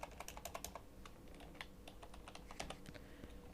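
Rapid, uneven keystrokes on a computer keyboard clatter continuously up close, with short pauses between bursts and no voices.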